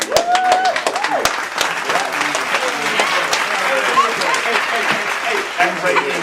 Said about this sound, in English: Y'all make sure I give a round of applause to my man Zabo Gotti